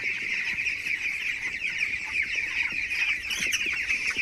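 A dense flock of 17-day-old chickens on a small home poultry farm chirps and clucks continuously, a busy close chorus of overlapping calls with no talk.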